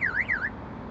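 A Chadwick car alarm whoops loudly in a rising and falling electronic warble, two quick sweeping cycles that then cut off and leave only a low background hiss.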